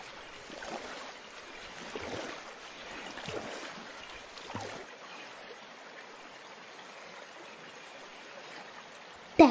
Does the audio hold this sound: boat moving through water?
yes